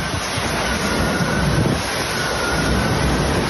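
Hurricane-force wind roaring over Mayotte with gusts reaching 226 km/h, a dense, unbroken broadband rush buffeting the microphone at a steady loud level for the whole stretch, with no voices.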